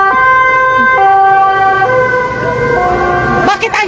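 A loud police siren wailing close by with stepped, shifting tones over an outdoor crowd at a street protest, ending in a few sharp knocks.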